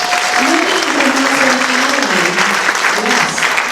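A large audience gives loud, sustained applause at a talk in Sedona, dense clapping filling the room while voices carry faintly beneath it.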